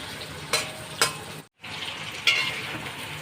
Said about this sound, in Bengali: চিংড়ি মাছ দিয়ে আমরা চিংড়ি মাছটাকে ভাজা ভাজা করে নেব।